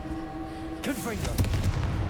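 The Confringo fire spell cast in the video game Hogwarts Legacy: a steady tone gives way to a whooshing burst and a string of crackling, booming impacts over a rumbling background.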